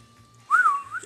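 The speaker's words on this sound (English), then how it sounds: "I think I've used that whistle mechanic like once." Whistle sound effect from the video game Pokemon Sword, a single short, clear whistled tone that bends up and down for about half a second, loud and alone after a quiet lead-in.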